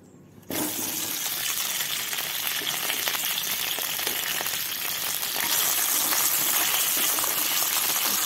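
Potatoes fry in hot oil with a steady, dense sizzling hiss that starts abruptly and keeps up loud and close throughout, with no talking.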